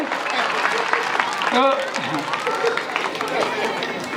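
An audience claps at a Hindi poetry recital, a crowd's steady applause with some chatter and voices mixed in, continuous and moderately loud across the stretch.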